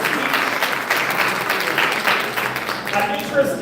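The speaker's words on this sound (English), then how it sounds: "Give her a big round of applause." An award ceremony audience applauding a student essay winner, a steady, dense crowd of clapping heard from within the hall. Someone talks over it.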